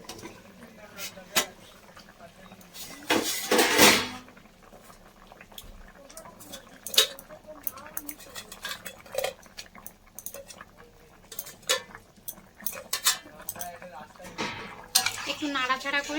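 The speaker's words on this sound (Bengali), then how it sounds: "নাড়াচাড়া করে মাছগুলোকে ভালোভাবে তরকারির ঝোলে মিশিয়ে দিতে হবে।" A spoon scrapes and knocks in a pot as fried local fish are stirred into a simmering curry with taro, giving sparse, close clinks and scrapes with a louder clattering burst, and no talk.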